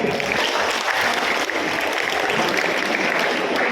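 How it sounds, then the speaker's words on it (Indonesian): An audience at a civic national-awareness session in Bekasi breaks into steady, dense applause that fills the hall without a break for nearly four seconds, with no voice rising above it. "Tepuk tangan lagi."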